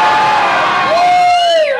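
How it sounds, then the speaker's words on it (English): Loud screaming from a live concert audience at a show in Blackwater, a thick wall of cheering with a few piercing whoops rising above it, steady and close before tapering at the end. "so you guys got to scream hella loud"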